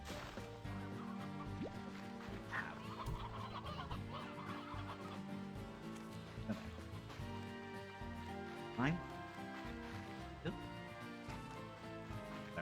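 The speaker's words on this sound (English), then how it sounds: "We should actually just get a set of normal chickens." Chickens in the video game Slime Rancher 2 cluck repeatedly in the background, with some watery sloshing and game effects beneath ongoing talk.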